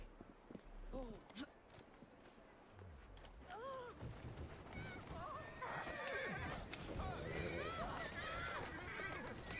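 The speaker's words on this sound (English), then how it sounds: "You like those horses?" Horses neighing and clip-clopping hooves in the video game Assassin's Creed Syndicate, several whinnies rising over steady hoofbeats, with someone speaking briefly.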